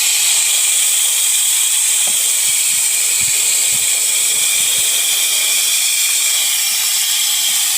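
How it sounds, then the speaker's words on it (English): Garden hose on a gentle setting rinsing degreaser off a car engine bay, a loud, steady hiss of spraying water with faint low knocks beneath it. "Grab the hose. I don't want to drown the car, so I'm gonna use one of these softer settings."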